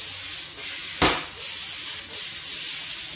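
A steak goes into a smoking-hot pan, a sharp hiss bursting up around a second in against a steady background sizzle, with softer surges after and no talking.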